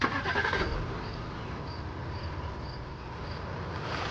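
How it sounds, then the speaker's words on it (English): A car engine starts and the car drives off at night in a sound effect: a brief burst at the start, then a steady engine roar, with faint rhythmic cricket-like chirps in the background. "She clambered into the driver's seat and sped off into the night."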